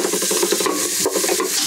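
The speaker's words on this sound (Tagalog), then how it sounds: "Ukay-ukayin lang natin hanggang mag-brown" Ginger and garlic sautéing in a pan alongside onion while being stirred, with continuous scraping and stirring strokes over a soft sizzle, close up and steady with no talking.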